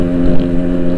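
A Yamaha RX-King motorcycle fitted with a Boban aftermarket exhaust runs close by, a loud, steady, low two-stroke drone with a slight swell partway through, heard alone without talk.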